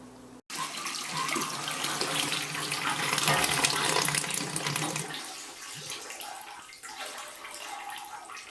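Tap water pours steadily into a Spike Brewing V3 brew kettle to fill strike water, a continuous close splashing rush that shifts tone partway as the level rises.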